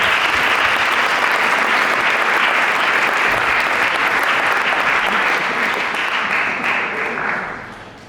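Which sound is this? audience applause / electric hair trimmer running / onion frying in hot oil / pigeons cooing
audience applause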